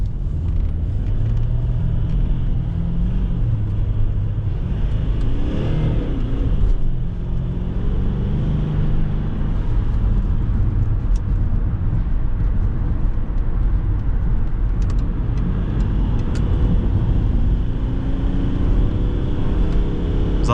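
Jaguar S-Type 2.7D V6 diesel driving at speed on an Istanbul ring road, a steady low engine drone and road roar that holds throughout with a slight rise in pitch, heard from inside the car without talk.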